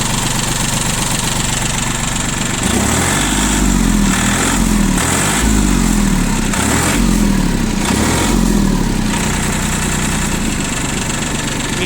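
Inexpensive 4WD mini tractor with hydraulic power steering runs close by just after starting, giving a loud, continuous engine drone with several rhythmic surges partway through and no talk.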